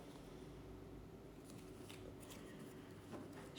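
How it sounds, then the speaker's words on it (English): Deck of oracle cards being shuffled, a soft, quiet papery riffling and flicking with a small tap at the end. "shuffling it and then just asking for a message for us"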